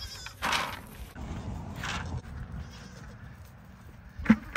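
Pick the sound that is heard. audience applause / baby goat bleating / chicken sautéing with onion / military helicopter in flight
baby goat bleating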